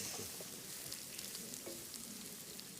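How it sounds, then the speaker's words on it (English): A pan sizzles steadily as it is deglazed while cooking a bacon and chilli tomato sauce for bucatini, a soft, continuous crackling hiss with small pops, fairly quiet and heard alone. "you loosen up a little bit the sticky stuff that is on the bottom, which is very good for the taste. It's called deglazing."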